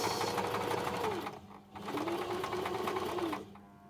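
A sewing machine stitches a reusable fabric makeup-remover wipe in two close, steady whirring runs separated by a brief pause as the presser foot is lowered and the edge realigned.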